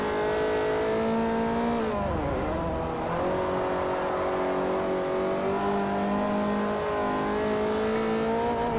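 A Peugeot hatchback racing in Forza Motorsport 4, its engine droning loud and close with a pitch that dips as it shifts and then climbs steadily, a brief tire squeal in the middle, no voices.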